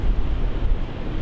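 Wind buffeting the microphone outdoors, a loud steady low rumble with continuous gusty roar throughout the short stretch, no voices.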